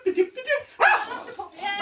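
A dog barks in a couple of short, close yaps and yips, with a person talking over and between the barks.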